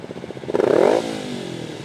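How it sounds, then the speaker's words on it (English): A motorcycle engine idles with a fast pulsing beat, then revs sharply up and falls back, close and loud. "Rev it up."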